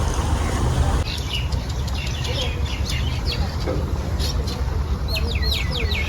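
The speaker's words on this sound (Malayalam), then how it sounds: "പക്ഷികളൊക്കെ പറക്കുന്നു." Birds at Dubai Miracle Garden chirp and call in quick, repeated high tweets over a steady, fairly loud outdoor background hum, moderately distant.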